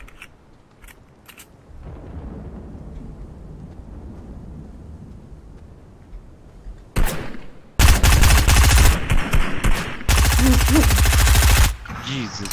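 Gunfire in the video game Fortnite: loud, dense bursts of rapid shots crackling in long runs late in the clip, preceded by quieter sporadic shots and game ambience, with a brief spoken word.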